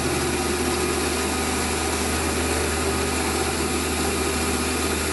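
A metal lathe takes a cut on a part for a Webster engine model, giving a continuous steady whirring hum with a faint high-pitched edge, close and even throughout, with no voices.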